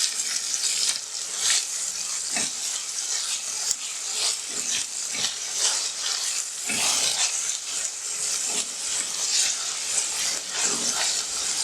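Sliced onions for a capsicum masala curry fry in a pan, a loud continuous sizzle broken by repeated scraping bursts as they are stirred, with no talking.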